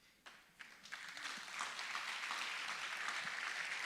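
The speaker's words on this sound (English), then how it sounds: "Definitely clap for that." Audience applause at a city State of the City event, starting with a few scattered claps and quickly building into steady, sustained clapping from a large crowd.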